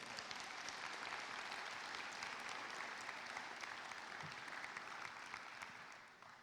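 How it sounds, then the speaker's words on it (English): Sustained audience applause at a 2021 high school graduation ceremony, clapping steadily for the governing board and tapering slightly toward the end, with no voices over it. "Will you please give the governing board a big round of applause?"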